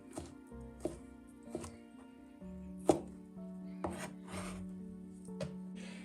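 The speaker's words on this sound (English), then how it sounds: "we need to cut it like this and chop it" A knife chops ham on a board in a kitchen, making sharp irregular knocks about once a second over a steady low hum, with no talking.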